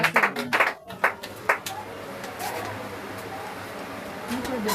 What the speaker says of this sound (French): Acclamons pour la sœur là-bas derrière.